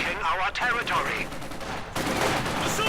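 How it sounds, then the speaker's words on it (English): MG42 machine gun fire in the Company of Heroes 2 strategy game, a dense rattling stream of shots with wavering whistles and battle noise, a commentator talking over it. "MG42 there providing quite the menace."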